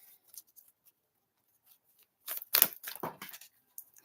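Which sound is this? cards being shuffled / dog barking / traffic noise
cards being shuffled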